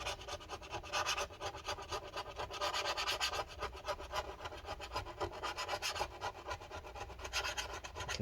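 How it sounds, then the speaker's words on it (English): A tool scraping old battery adhesive inside a 2012 15-inch MacBook Pro A1398, rapid repeated rasping strokes close up in a steady rhythm, no talk. "Continue scraping this stuff up."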